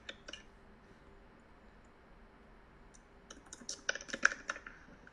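Light clicking of keys on a computer keyboard during a coding lesson, sparse taps at first that build into a quick burst of typing toward the end, faint and close with no talking.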